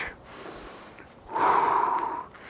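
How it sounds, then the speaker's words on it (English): Deep breaths drawn in and out during a mobility and strength workout, two long airy breaths in close, the second louder and rougher, with no talking. "Again, you can breathe in and out. Breathe in and out."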